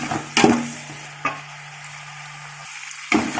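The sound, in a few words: onions and spices sautéing in pan for chicken biryani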